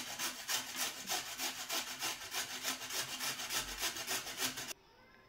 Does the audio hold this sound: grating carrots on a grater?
yes